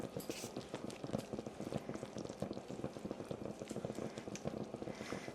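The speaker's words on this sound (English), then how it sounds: "now let's pour our pasta in and get that well mixed" Cooked pasta tipped into a pan of Swedish meatball sauce and stirred, giving a dense, continuous wet squelching and clattering that stays steady and close throughout.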